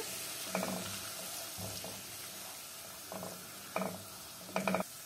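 Garlic fried in a pan with a spoon of paprika and half a spoon of cumin, a soft steady sizzle broken by several scraping stirs of a spoon, each a short clatter, the last two louder and closer.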